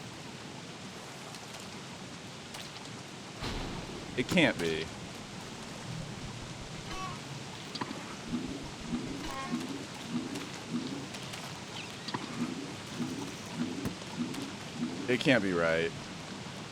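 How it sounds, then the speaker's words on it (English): Frog rain in Don't Starve's Uncompromising Mode video game sounds as a steady hiss of falling rain with low, pulsing croaks that grow more regular later, and a voice speaks briefly over it. "Three frog rains in a row."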